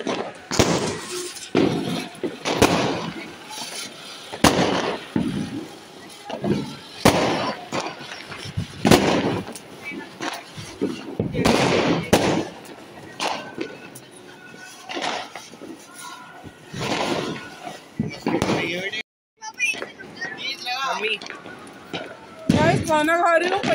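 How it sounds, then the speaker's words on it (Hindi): Diwali firecrackers burst in a long series of sharp, irregular bangs, some near and loud, others farther off, mixed with people talking and festive bustle. "पटाखा फूट रहे हैं।"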